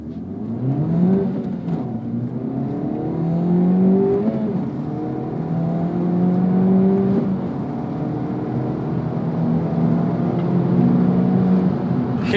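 A turbocharged Acura Integra Type S accelerates hard, short-shifted around 6,000 RPM. The engine note climbs in rising sweeps, with brief dips at each of several gear changes, heard close from inside the car.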